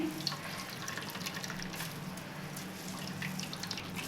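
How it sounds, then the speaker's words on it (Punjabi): Water trickles and drips steadily from grated bottle gourd as it is squeezed in muslin cloth, a faint continuous wet patter heard up close with no talking. "ਇਹਨੂੰ ਹੁਣ ਆਪਾਂ ਚੰਗੀ ਤਰ੍ਹਾਂ ਘੁੱਟ ਕੇ ਨਿਚੋੜ ਲਵਾਂਗੇ ਜੀ ਐਕਸਟਰਾ ਜਿਹੜਾ ਸਾਰਾ ਪਾਣੀ ਆ ਆਪਾਂ ਚੰਗੀ ਤਰ੍ਹਾਂ ਨਿਚੋੜ ਲੈਣਾ ਏ"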